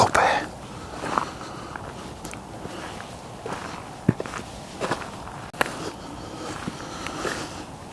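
Footsteps walking outdoors at night near a tent in cold weather, irregular crunching steps on the ground at close range with faint rustling and quiet breathing between them.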